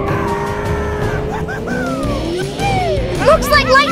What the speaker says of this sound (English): Rev your engines! The cars are lined up for an epic race!